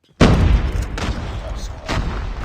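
A video game grenade detonates with a sudden loud boom, followed by sustained rumbling battle noise and further blasts amid in-game chatter.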